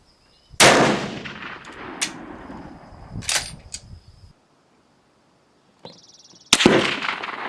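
A Steyr rifle fires 200-grain Sierra Match King rounds at a range: two loud, sharp shots several seconds apart, each trailing a long decaying echo, with a faint high electronic tone between them.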